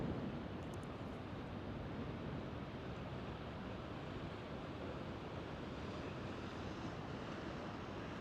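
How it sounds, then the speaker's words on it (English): Rough sea surf pounding continuously at the Albany blowholes on the Western Australian coast, a steady broadband roar of breaking waves mixed with wind buffeting the microphone, with no voices. "Look at the waves over there,"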